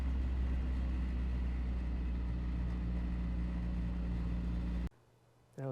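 A Mazda Miata engine runs steadily, a close, even low hum and drone that cuts off abruptly near the end, leaving near silence.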